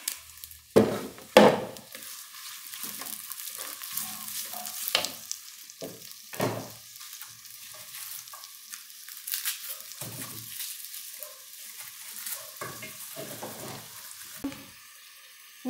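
Onion sizzles steadily in a hot pan, close and fairly loud, broken by bursts of stirring and scraping against the pan. There is no talk.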